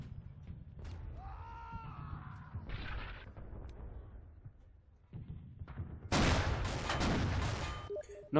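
Gunfire strikes a Matilda tank in the video game Red Orchestra, a dense burst of loud cracks and rattling impacts arriving late after quieter, rumbling battlefield noise.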